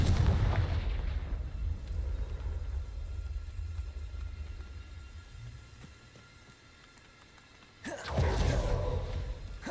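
Confringo fire spell blasts in the video game Hogwarts Legacy, a loud booming explosion at the start that fades into a rumbling lull, then a second heavy blast near the end.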